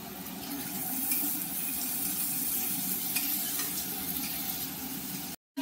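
Turmeric stirred into a frying pan with a ground spice paste sizzles in a loud, continuous hiss with faint scraping of stirring, running steadily until an abrupt cutoff near the end.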